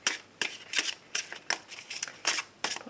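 Oracle cards being shuffled by hand for a daily reading, a rhythmic series of about eight crisp riffling bursts, close and moderately loud with no speech.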